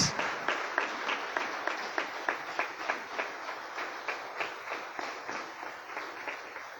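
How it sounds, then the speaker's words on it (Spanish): A church congregation claps in rhythm, steady regular beats repeating over several seconds, moderately distant and even, with no talk over it. "Y dale un fuerte aplauso y rompemos el silencio"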